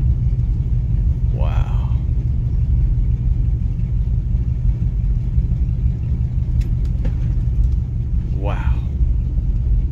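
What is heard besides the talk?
Oldsmobile car running and driving with new 727 transmission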